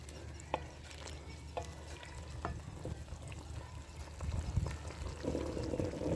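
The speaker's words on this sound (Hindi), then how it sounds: "इसको थोड़ा सा भूनना है और फिर इसके अंदर बैंगन डाल देने हैं।" Eggplant and potatoes fry with spices and yogurt in a pan, a steady close sizzle broken by occasional scraping stirs, and the bubbling grows louder toward the end.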